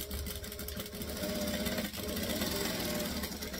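A sewing machine stitches along the edges of a fabric pencil case, running continuously with a steady close-up whir and mechanical rattle throughout.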